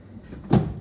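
A sliding door with newly installed rollers glides along its track, giving a soft rolling rumble that ends in a short, firm thud as it stops.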